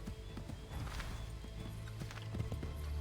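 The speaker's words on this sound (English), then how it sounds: "Get back on the horse, Connor." Horse hooves clip-clop in a steady galloping rhythm in the video game Assassin's Creed 3, close and fairly quiet, with a brief whinny and low rumbling game ambience underneath.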